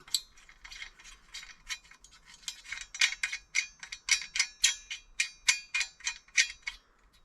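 A saw blade being tightened back up by hand, heard as a run of sharp metallic clicks and ratchet-like clangs. They speed into a steady close rhythm, with no talking.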